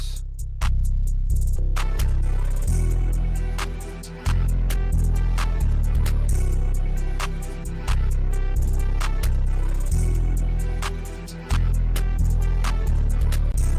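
A hip hop beat plays alone, with booming 808 bass notes under crisp hi-hats and snappy drum hits in a steady, looping groove.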